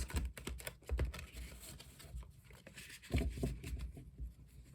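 Tarot cards are shuffled by hand nearby, giving papery riffling bursts and soft flicks with a few heavier taps between them.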